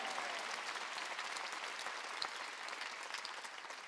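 A church congregation claps at a Korean Sunday worship service, an even, crackling wash of many hands that carries on steadily throughout, fairly quiet and heard on its own.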